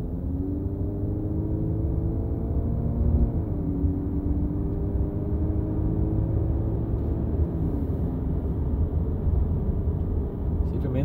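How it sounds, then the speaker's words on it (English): A steady low engine drone and road rumble heard from inside a Subaru Crosstrek with a Borla axle-back exhaust while driving, with a gently rising and falling engine tone throughout. "I'm about 46 miles right now and you guys can honestly barely hear the exhaust."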